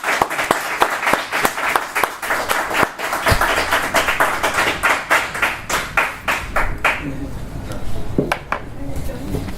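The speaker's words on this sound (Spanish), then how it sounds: "Y pido un aplauso, por favor," An audience applauds a director at a writers' and creators' event, with dense, lively clapping up close that thins out toward the end, mixed with a few voices.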